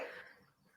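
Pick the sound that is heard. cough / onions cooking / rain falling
cough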